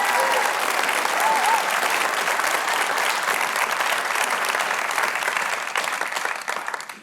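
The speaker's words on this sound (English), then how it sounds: "Let's give them a round of applause." Sustained, loud audience applause filling a large keynote hall at a Salesforce Dreamforce admin conference, dense and steady for most of its length before starting to thin out at the very end.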